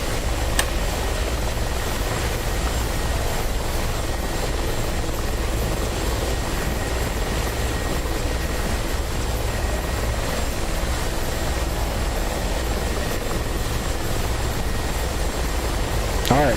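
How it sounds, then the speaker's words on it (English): A Mi-24 Hind helicopter in a video game makes a rolling takeoff on a runway, its rotor and engine roar loud, dense and unbroken throughout. "We'll do a rolling start on the runway like a Hind normally would."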